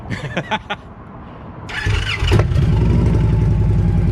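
A 2015 Victory Magnum X1 motorcycle with an aftermarket exhaust cranks and fires up after a few short starter bursts, then settles into a loud, steady, rumbling idle close by.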